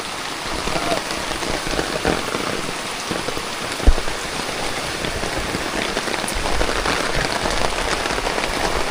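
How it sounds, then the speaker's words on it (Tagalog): Steady rain falls on surfaces during an outdoor family meal, a dense, even hiss of drops with one sharper knock partway through and no voices. "Umuulan eh."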